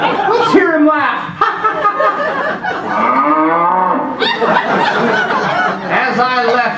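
A cow moos in a long, bellowing call during an old radio comedy show, heard amid lively talk and chuckling from the performers.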